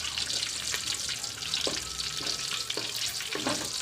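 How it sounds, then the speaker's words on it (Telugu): Palak paneer ingredients sizzle and fry steadily in a pan with a dense hiss, and a few brief clinks of stirring are heard; no one speaks. "ఇదిగోండి, ఫ్రై అవుతుంది."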